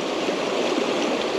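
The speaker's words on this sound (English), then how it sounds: "as you see, the water's running through quite quick" Fast-flowing water of the River Doon running quickly past a salmon fishing spot, a steady, dense rushing wash heard close and continuous with no talk over it.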